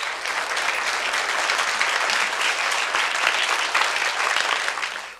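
Sustained applause from a crowd, dense and steady clapping that fills the room before tapering off at the end.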